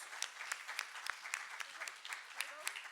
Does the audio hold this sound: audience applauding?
yes